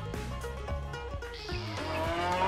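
Black-and-white dairy cows coming in from pasture for grain and milking moo in several deep, drawn-out lows, close by, with a higher sustained tone rising in the second half.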